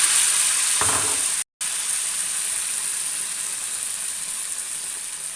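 Bread pakoda sizzling steadily in hot oil, a close, continuous broadband frying hiss with a brief cut of silence near the middle, no talk over it.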